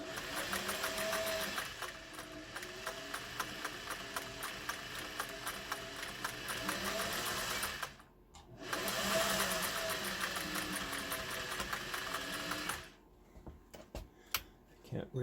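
Singer 401A sewing machine stitching fabric with a rapid, steady mechanical whir and tick, running in two long stretches broken by a short pause before stopping, with a few light clicks at the end.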